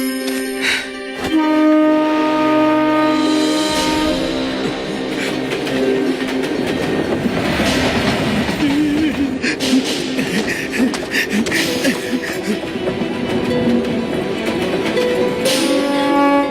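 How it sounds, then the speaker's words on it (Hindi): A train pulls away and gathers motion, with loud rumbling, metallic clanks and a rhythmic clickety-clack of wheels, plus high squeals and hiss rising over the steady roar of the railcars. "ट्रेन चल पड़ी।"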